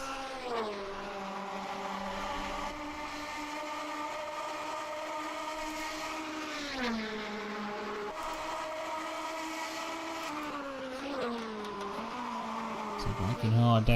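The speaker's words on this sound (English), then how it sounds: "You can hear some locked tyres behind him as well." 1950s Grand Prix cars racing at the Sachsenring in a video game: steady engine whine rising and falling through gear changes, with tyre squeal and scrubbing from locked wheels toward the end.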